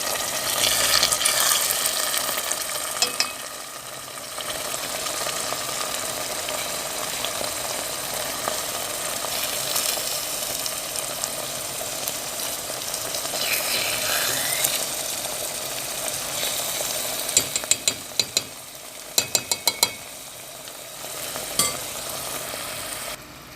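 Mutton koftas frying in a pan over a medium flame, a steady loud sizzle throughout with clattering and scraping near the end as they are turned.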